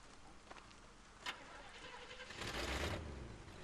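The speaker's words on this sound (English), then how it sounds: "Engine still purrs nicely." An engine in the Bayonetta video game starts with a brief catch, then a car engine runs and swells into a louder rumble for about a second before settling back, with no talk over it.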